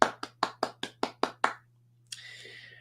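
Eight crisp hand claps from one nearby person in an even, quick rhythm, followed by a short silence and a faint, brief rustle.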